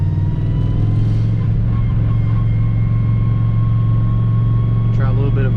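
A car on Nitto 555 R2 drag radial tires, fitted with a 10 lb wastegate spring, drones loudly and steadily with its engine under load, and a faint voice comes in near the end.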